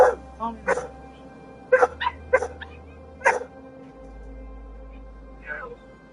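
A puppy gives a run of short, high yips and whimpers at close range, spaced irregularly, with low background hum and a faint voice late in the clip.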